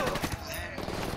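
Rapid gunfire in the video game Ghost Recon Wildlands, a dense continuous burst of shots filling the whole moment at moderate loudness.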